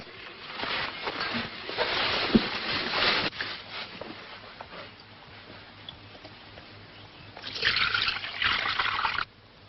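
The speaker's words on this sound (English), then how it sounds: "Here's some water to wash his feet." Water is poured and splashed for washing feet, with a trickling, dribbling burst early on and a second pour later, fairly quiet and close with no talk.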